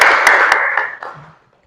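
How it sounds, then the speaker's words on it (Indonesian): Brief burst of hand clapping for students during an anthropology class lesson, a short patter of claps that quickly thins out and fades to silence. "Tepuk tangan untuk anak-anakku semua."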